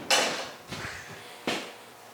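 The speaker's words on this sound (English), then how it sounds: "Let's see if I can pop that door open." A car door on a 1956 Chrysler Windsor being worked open, giving three sharp, close clunks of latch and metal spaced unevenly, with nothing else heard in between.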